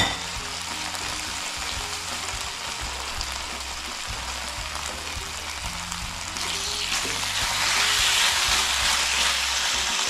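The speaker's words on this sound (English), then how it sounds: "we're gonna stir fry it" Marinated meat stir-frying in an oiled skillet for pepper steak, a steady close sizzle and crackle that swells louder toward the end, with no talking.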